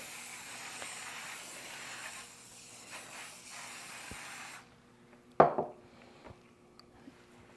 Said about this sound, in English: now let me spray my pan here